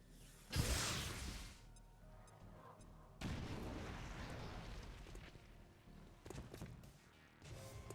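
A grenade blast from the strategy game XCOM 2 Long War, one sudden loud boom followed by a second, smaller rumbling burst and lingering game noise, very faint overall.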